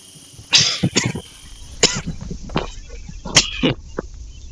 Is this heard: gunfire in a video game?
no